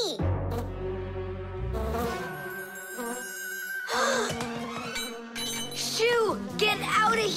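A cartoon bee buzzing in a kitchen where a boy eats jam straight from the jar, the thin drone sliding and wavering in pitch against musical backing, with brief vocal sounds breaking in.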